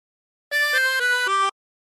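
Harmonica played without bends, a short meme phrase of four clear sustained reedy notes stepping in sequence, close and alone over about one second.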